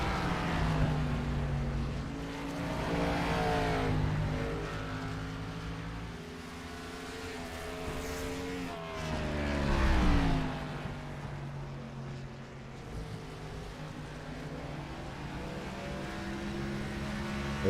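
Race cars lapping the Richmond track, with a steady layered engine drone whose pitch rises and falls as cars pass, one louder surge near the middle.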